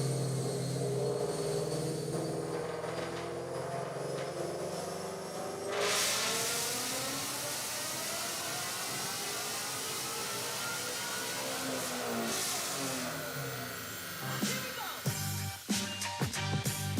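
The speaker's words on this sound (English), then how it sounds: "T350, naturally aspirated, stick shift, S550 IRS on 93 octane. Let's hear it make a dyno pull." A naturally aspirated T350 stick-shift car on 93 octane with S550 IRS makes a dyno pull: the engine rises in a long sweeping rev, loud and sustained, then drops off with a few short blips near the end.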